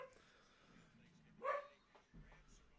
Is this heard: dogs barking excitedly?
yes